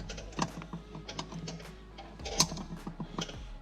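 Wrenching a stubborn nut loose on a shock of a 1999 to 2007 Chevy Silverado: scattered close metallic clicks and ratcheting taps with a couple of sharper clanks, quiet between bursts.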